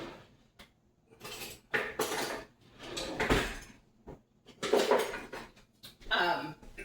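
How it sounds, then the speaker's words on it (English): Metal cutlery clatters and rattles in a kitchen as a spoon is picked out, several sharp bursts of clinking and sliding with short quiet gaps, close and fairly crisp. "Let me grab a spoon here."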